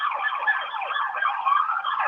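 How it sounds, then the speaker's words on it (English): Sirens blare over a sound system at a live show, a continuous wailing, rising-and-falling tone that is loud and steady throughout, with no talking. "Play the sirens"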